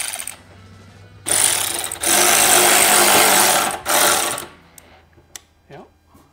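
A power drill bores through metal holes during an offroad storage window installation, running in two loud sustained whining bursts with a short break between them, followed by quiet clicks and faint handling.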